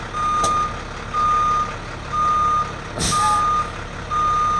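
A plow truck's dump bed lifts beneath a V-box spreader as the engine idles steadily, with a loud, evenly spaced series of five electronic beeps and a short hiss near the middle.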